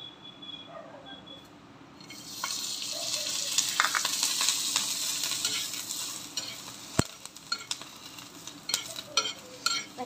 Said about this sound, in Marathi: तेल टाकले बघा, मिरच्या पण भाजले,